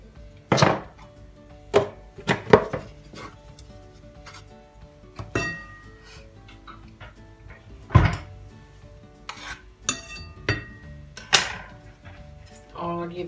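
Onion and garlic being chopped together on a board in a home kitchen, a series of sharp, separate knife knocks spaced irregularly with quiet gaps between them, fairly close and moderately loud.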